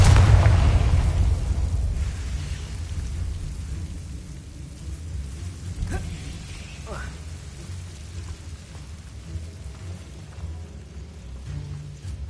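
A Confringo fire spell goes off in Hogwarts Legacy with a loud boom at the start. A long rumbling roar follows and fades slowly under steady ambient noise, with a few faint thin tones after it.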